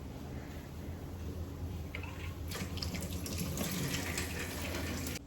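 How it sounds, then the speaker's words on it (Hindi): A tap runs steadily into a sink while hands are washed underneath, the water splashing louder once the hands move into the stream, close and continuous until it cuts off. "तो सबसे पहले मैं हाथ धो लेती हूँ अपने।"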